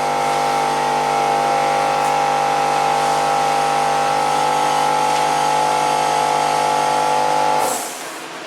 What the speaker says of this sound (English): that's the compressor that kicked on